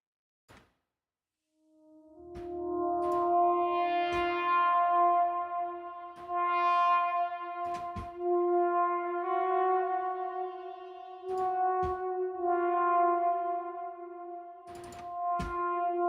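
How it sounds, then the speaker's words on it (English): A drum and bass production sound drenched in long reverb: sustained tonal chords ring and wash out, punctuated by sharp percussive hits that trail into a lingering tail. "Let's just put some more reverb on it, just to make it sound even more prettier."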